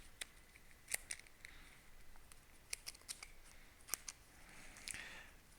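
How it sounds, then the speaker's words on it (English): A deck of cards is shuffled during an ISS Vanguard board game session. Soft, faint riffling and crisp card snaps sound close by, scattered and uneven, with no talk. "I'm going to shuffle real quick"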